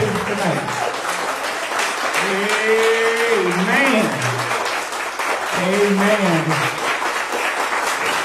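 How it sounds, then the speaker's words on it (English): A church congregation applauds during a year-end service, a steady broadband wash of clapping running throughout while voices call out and sing-like tones rise over it. "let's give God a round of applause tonight"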